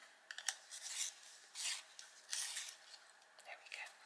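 A coloured pencil is turned in a small sharpener close up, giving quiet, irregular scraping bursts of shaving and rasping over a few seconds with no talk.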